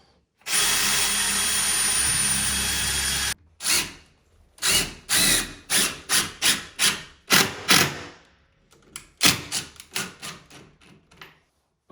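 A power drill runs steadily for a few seconds while pre-drilling into an interior door frame, then drives a screw in with a string of short bursts and pauses, close and loud.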